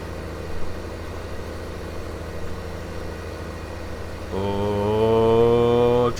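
A tractor engine in Farming Simulator 15 idles with a low steady drone, then revs up sharply partway through into a louder, higher-pitched harmonic whine that holds to the end, with no talking.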